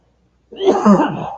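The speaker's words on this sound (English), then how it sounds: "I still got a little cough left in me" After a moment of silence, one close, loud, rough cough bursts out and trails off.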